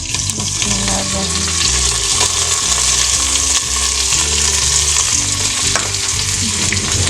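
Tomatoes, ginger and garlic fry with browned onions in a pan for aloo gosht, giving a steady, loud sizzle with occasional stirring scrapes throughout.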